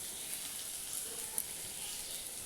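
Potatoes fry softly in a pan, a faint, steady sizzling hiss with no voices, just one tiny crackle partway through.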